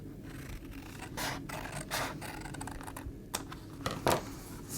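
Scissors snip through cardstock for a wrap-around gift box, giving several close, crisp cuts at an uneven pace with faint scraping between them and no talking.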